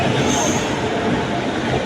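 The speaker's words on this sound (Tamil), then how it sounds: "ட்ரெயின் வந்துருச்சுங்க" The Palakkad to Erode superfast express train pulls into the station with a loud, continuous rumble of wheels on rails and a faint high squeal, while people's voices mix into the noise.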